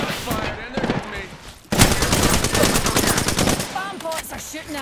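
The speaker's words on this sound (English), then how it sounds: "Shot fired, and they're hitting me." Rapid automatic gunfire in an Apex Legends match, a dense loud burst of close shots after a short lull, with a character voice speaking before and after the volley.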